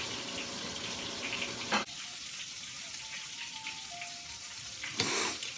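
Food rinsed under a running kitchen tap: a quiet, steady hiss of flowing water with two brief louder splashes, and no talking.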